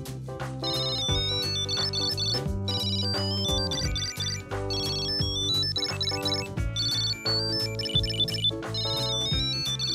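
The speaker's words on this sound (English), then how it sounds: "I'm ringing your keys." A bright electronic ringtone melody from a Tile tracker on keys plays continuously, a repeating chirpy tune with a steady beat, loud and close, with no talking.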